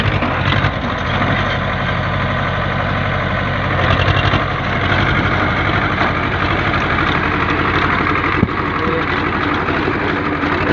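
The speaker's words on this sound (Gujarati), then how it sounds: "કપાસને ખરપામાં બહુ સરસ ચાલી રહ્યું છે ટ્રેક્ટર" A single-drive tractor engine runs steadily in a cotton field, a loud, continuous idling rumble with constant vibration that barely changes in level from start to finish.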